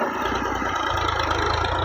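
A 2005 Millat tractor engine idles steadily nearby, with a continuous low rumble and a rapid, even mechanical throb and no voices.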